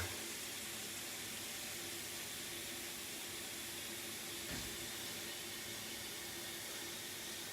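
Water from a kitchen tap runs in a steady, unbroken hiss, loud and close, with no pauses and no speech.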